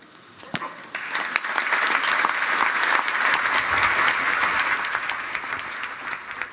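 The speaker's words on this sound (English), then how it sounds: "Theresa May there being applauded by guests at London's historic Guildhall" Guests at London's historic Guildhall applaud Theresa May after her speech, a full, even roar of many hands clapping that builds quickly, holds steady and fills the hall, with a few sharper claps standing out.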